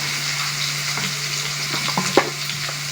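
Chopped ginger and garlic drop into onions already frying golden in a pan. A steady loud sizzle runs throughout, with a few stirring clinks and scrapes and no voices.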